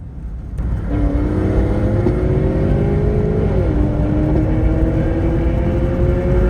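A nitrous-equipped police car and a Corvette at a Texas roll race, engines roaring loud and close with rising revs that hold, dip briefly, then climb again as they run side by side.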